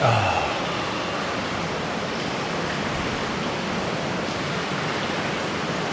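Water spilling over the edge of an edgeless infinity pool, a constant rushing wash like a small waterfall, steady and fairly loud after a brief louder burst at the start.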